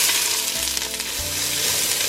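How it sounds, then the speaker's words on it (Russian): Chopped onion sizzles and fries in well-heated vegetable oil in a pot, a steady loud crackle with stirring noises throughout, no talking. "Перемешивая, обжариваем лук до золотистого цвета."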